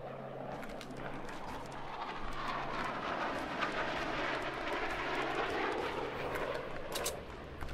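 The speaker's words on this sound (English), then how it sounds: "Guided missile." A guided missile flies in Fortnite duos on Nintendo Switch, a continuous loud engine-like roar with a rising whoosh that holds steady throughout, no talk over it.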